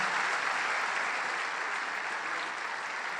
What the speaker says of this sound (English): Please clap your hand better than that.